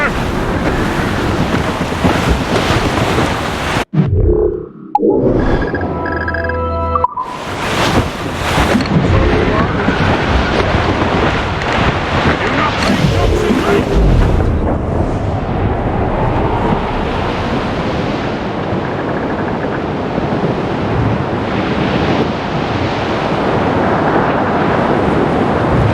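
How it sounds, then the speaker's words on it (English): Wind and ocean waves at sea in the video game Assassin's Creed Rogue, a loud, continuous rush of surf and gusting wind around a sailing ship, briefly broken by sharper effects early on, with occasional voices under it. "I don't like that wind, sir."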